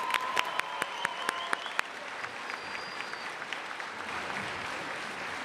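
Audience applause at a university graduation ceremony for a men's choir, sharp claps standing out early over a steady dense clapping crowd that continues evenly throughout.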